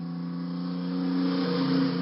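Truck hauling a shipping container along a road, a steady droning engine hum that swells slightly louder toward the end, with no voices.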